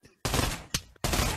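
Gunfire in the multiplayer game Pavlov VR, two loud bursts of rapid shots with a short gap between them, close and dense, over voices talking during the match.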